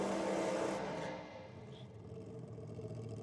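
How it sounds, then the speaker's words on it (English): A drag car with a supercharged small-block Chevrolet engine does a burnout at a nitro drag racing meet. The engine roar is faint and distant, revving at first and then easing off into a lower, fading drone. "A fairly stout burnout. Yeah, he's never shy. Small block Chev on board with a supercharger on board."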